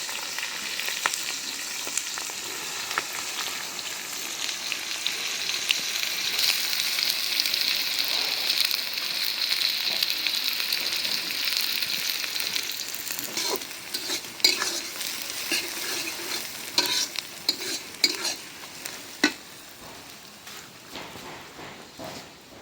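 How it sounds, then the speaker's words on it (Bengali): Chopped onion frying in a pan, a loud continuous sizzle with scraping stirs and clatters growing busier toward the end, close by with no talking. "পেঁয়াজ ভাজে নিলাম"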